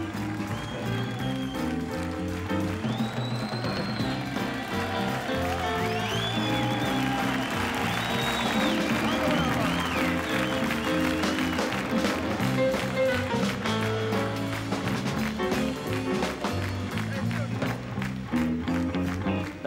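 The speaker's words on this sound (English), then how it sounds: "Let's give him a big round of applause," Concert audience applauding a blues singer, dense continuous clapping and crowd noise mixed with ongoing music, steady and loud throughout the whole stretch.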